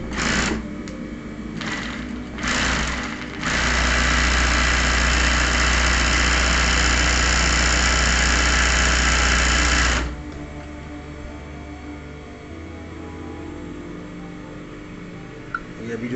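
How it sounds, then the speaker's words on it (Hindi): A JUKI LZ-271 industrial zigzag sewing machine runs after shuttle maintenance. It starts and stops in a few short bursts, then hums and clatters steadily for several seconds before cutting out, leaving a lower background hum. "अब इसको चला के देखते हैं कि हमने जो काम किया है, शटल वगैरह की जो चाल बनाई है वो ठीक होगी है या नहीं हुई"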